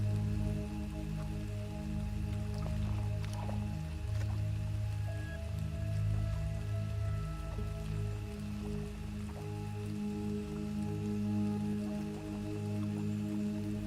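Rain falls steadily with soft, dense patter and occasional drips, holding a constant level under a low humming drone, with no voices.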